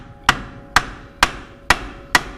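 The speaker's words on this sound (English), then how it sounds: "I'm gonna take a hammer here and beat these here up a little bit" Five evenly spaced, sharp metallic hammer blows land on brake parts of an International 38-ton crane, each ringing briefly in a close, steady rhythm.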